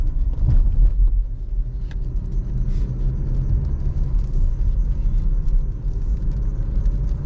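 Renault Arkana SUV with a 1.3-litre TCe petrol engine, heard from inside the cabin as a steady low rumble with well-muffled exhaust and road noise, continuous and even, with no talking.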